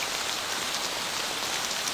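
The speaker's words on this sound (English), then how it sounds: "this is Mount Hood, and it's raining today. Rain's kind of coming at an angle." Steady rain falling at Mount Hood, blowing in at an angle, a dense even hiss of drops with no break across the whole stretch and no voices.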